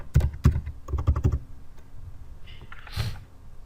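Several quick keystrokes on a computer keyboard while working in 3ds Max, including a press of the X key: a fast burst of close, crisp clicks, then a pause and a few softer taps.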